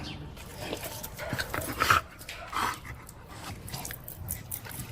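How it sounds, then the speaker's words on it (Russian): A dog pants on a hot day with quick, rhythmic, breathy huffs close by, steady with a few louder bursts. No one speaks. "Моя собака"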